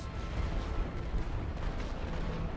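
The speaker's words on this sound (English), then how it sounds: "Start the barrage." A Great War video game artillery barrage roars steadily, a dense, rumbling wall of distant gunfire and booms that holds at a constant level throughout, with no voices.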